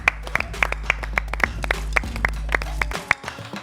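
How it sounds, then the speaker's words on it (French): Audience clapping at a French talk show as a guest is welcomed on stage: a steady patter of claps with sharp individual hand strikes over a low hum, fading out near the end. "Mélissa, on l'applaudit."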